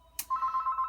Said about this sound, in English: uh-oh, there goes my phone